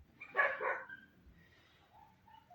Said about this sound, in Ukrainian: ця довбана собака буде на мене гавкати